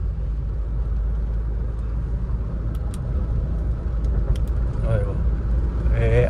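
A Mahindra Scorpio SUV cruising at high speed, around 120 km/h on cruise control, fills the cabin with a steady low road and engine rumble while people talk over it.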